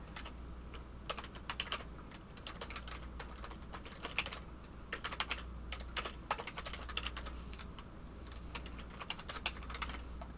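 Fingers tap a computer keyboard in irregular bursts of quick clicks, close and fairly quiet over a low steady hum.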